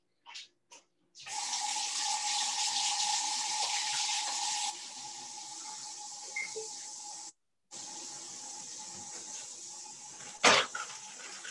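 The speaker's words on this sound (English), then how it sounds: "Let me wash my hands really quick." Hands being washed under a running kitchen tap: steady hissing water flow for several seconds, briefly interrupted and resumed, with a faint clunk near the end; no talking.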